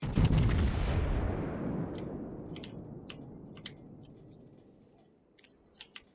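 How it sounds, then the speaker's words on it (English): The battleship Missouri's secondary guns fire in the World of Warships video game: a heavy opening boom decays slowly, followed by scattered sharp cracks and clicks of distant shots, with no talk. "The secondaries are firing. My secondaries are now firing."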